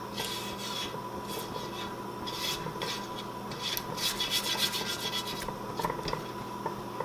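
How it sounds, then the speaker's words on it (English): A spoon stirs and scrapes strawberry rhubarb caramelized onion jam around the sides and bottom of a pan, making repeated rasping, rubbing strokes at close range with no voices. "Down from the sides of your pan, stirring it up."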